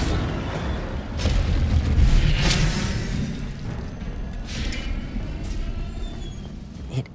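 Incendio fire spell cast in Hogwarts Legacy, a deep rumbling whoosh with a booming burst near the start that swells, then a sustained low roar trailing off, with no talk.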